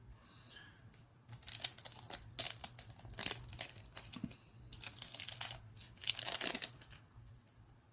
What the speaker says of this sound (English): you can't really see it too well because of the plastic, but we'll get that off right now